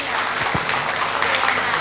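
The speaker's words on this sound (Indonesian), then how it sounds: "Putri Lingkungan Hidup, kita beri tepuk tangan." An audience at a Gemari Arum Dalu Posdaya gathering claps for Putri Lingkungan Hidup, a brief burst of close, dense clapping lasting under two seconds.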